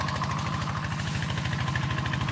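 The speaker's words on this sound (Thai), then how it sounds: "เสียงรถไถอ่ะดังหน่อยนึงครับ" Tractor engine running steadily and fairly loud in a rural setting, a continuous rhythmic chugging with regular low pulses and no talk.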